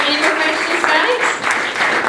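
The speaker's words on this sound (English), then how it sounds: "round of applause for that" Applause from an audience at a talk fills the room with dense, steady clapping for a couple of seconds, loud and close.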